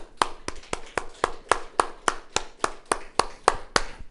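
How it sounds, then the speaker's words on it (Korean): A church congregation clapping together in a steady, even rhythm, about three claps per second, sharp and moderately close, with no talking over it. "다시 한번 우리 주님께 영광의 박수 크게 올려드리겠습니다"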